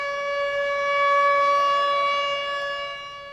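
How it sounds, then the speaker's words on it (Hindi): A loud, steady wail of an air raid siren during an attack, swelling slightly and then easing, with no voices. "सायरन बज रहे हैं।"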